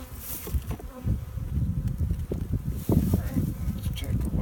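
Dense, steady buzzing of many honeybees at a strong, busy hive, close and continuous throughout.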